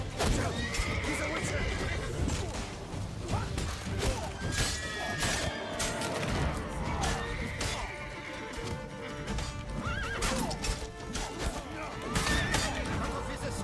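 Horse neighing in The Witcher 3: Blood & Wine during combat, whinnies rising over clip-clop hooves, crashing hits and game effects, with someone talking throughout.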